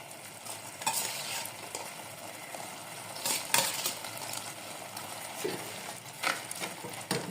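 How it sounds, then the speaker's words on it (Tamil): Prawns fry in a pan, with a sizzling hiss and sharp scrapes and clinks of a utensil stirring them, the stirring rising in irregular bursts over the steady frying. "இப்போ ராலை போடுவோம்."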